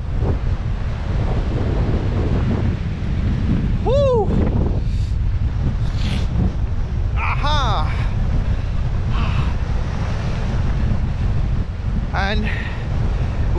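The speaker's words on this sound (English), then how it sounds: "If you can hear me with this wind, because this wind is pretty powerful now." Strong, powerful wind buffets the microphone outdoors on a coastal walk at Eyemouth, a constant loud roaring rumble throughout, with a voice speaking faintly through the gusts.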